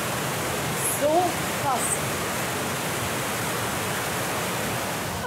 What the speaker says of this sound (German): Unfassbar, mit was für einer Wucht dieses Wasser hier so durchfließt.